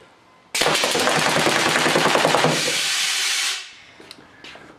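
Homemade full-auto battery-powered air gun fires a rapid burst at about 600 rounds per minute, a loud rattling stream of shots for roughly three seconds that cuts off abruptly, followed by a few faint clicks.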